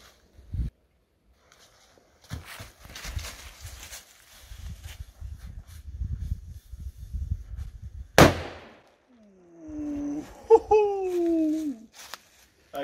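A single loud firecracker bang goes off inside an abandoned bunker, ringing briefly in the enclosed space, preceded by rustling and handling noises and followed by people talking and laughing.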